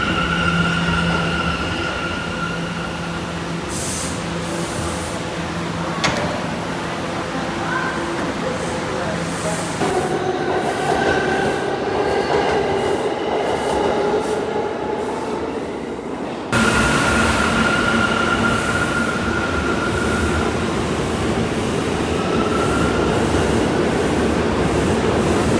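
A New York subway train rumbles steadily along with rattling, brief wheel squeals, and faint voices in the background.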